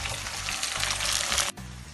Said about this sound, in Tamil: சின்ன வெங்காயத்தை கொட்டிடுவோம்.